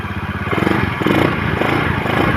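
A Honda Icon motorcycle engine idles steadily just after starting, a close, even, rapid putter with a smooth, quiet running note throughout.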